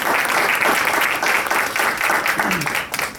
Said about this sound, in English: So I think you all deserve another wonderful round of applause.